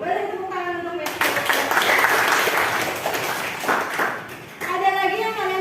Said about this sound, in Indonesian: Beri tepuk tangan untuk Matthew.